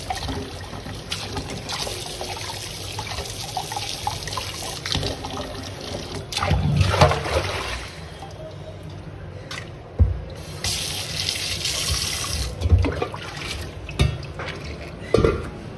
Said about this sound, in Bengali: এইভাবে জল দিয়ে প্রতিটা আম ধুতে হবে যাতে কষ্টটা বেরিয়ে যায়